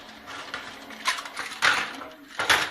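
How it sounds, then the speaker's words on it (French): A heap of forks, knives and spoons clattering in a video game, several bright metallic jangling bursts in quick succession, close and moderately loud, with no speech. "je n'avais pas vu ce gros tas de fourchettes, de couteaux et de cuillères"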